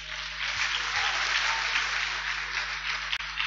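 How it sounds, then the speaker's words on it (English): A church congregation at a main service on parenting applauds, a dense continuous clapping sound filling the room at a steady level for a few seconds before tapering. "A hand clap for mothers."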